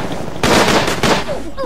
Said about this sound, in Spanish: Por ahí se escuchan disparos